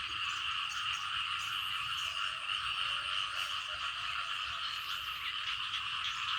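A dense chorus of frogs croaking in a forest after rain, steady overlapping calls continuing throughout, fairly distant and without speech.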